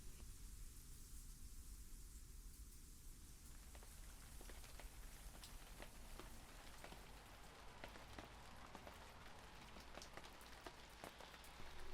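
Steady rain pattering on a surface, a dense hiss with scattered drop taps growing more distinct, continuous and unbroken, no voices.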